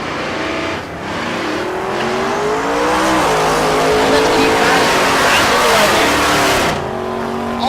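A Chevelle drag racing at Tulsa Raceway Park, a loud engine roaring up through rising revs with a pitch shift near the end, close and dominant throughout.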